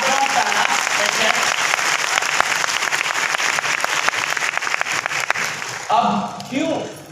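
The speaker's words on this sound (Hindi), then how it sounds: "प्लीज एक बड़ी ताली।" Audience applause at a seminar, a dense sustained clatter of many hands clapping close and loud for about six seconds, then thinning out as the crowd stops.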